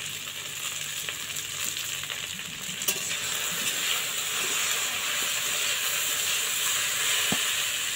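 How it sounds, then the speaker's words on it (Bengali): Taro stolons (kochur loti) fry in a pan while being stirred, a steady close hissing sizzle with only a few faint utensil taps. "কচুরলতি দেওয়ার পরে কিন্তু খুব ভালোভাবে নাড়িয়ে নিলাম"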